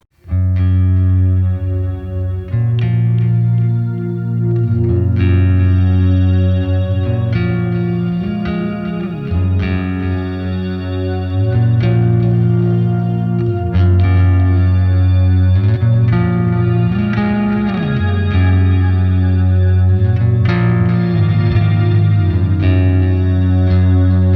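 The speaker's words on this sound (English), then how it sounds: "I'm gonna use the EHX Canyon, maybe in the shimmer or octave or maybe reverb modes" Electric bass plays a slow line through an EHX Canyon pedal's shimmering octave reverb, with bright upper harmonics and a lingering, washy tail; no talking.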